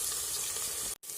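Green chillies added to frying onions and ginger-garlic paste in a pan for Assamese chicken biryani, a brief hissing sizzle that cuts out abruptly for a moment before resuming, quiet and without voices.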